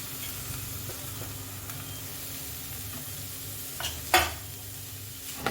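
Paneer filling is stirred in a pan with a quiet, low sizzle and soft scraping, then a sharper spoon-against-pan scrape near the end, with no talking.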